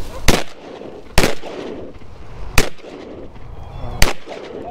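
Four sharp 28 gauge shotgun blasts at geese over water, evenly spaced at roughly one-and-a-half-second intervals, each loud and close with a short echoing tail.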